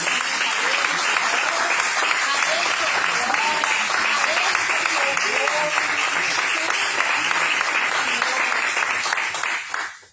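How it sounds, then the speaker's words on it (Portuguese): A church congregation claps loudly and continuously in a dense, sustained round of applause with scattered voices mixed in, fading out only at the very end. "Vamos aplaudir ao Senhor"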